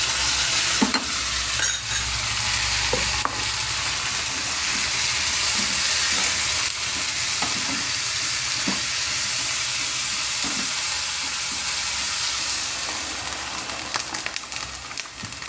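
Drumstick pieces stir-fried with browned onions in a pan, a continuous loud sizzle with repeated scraping strokes of a spatula, no voices.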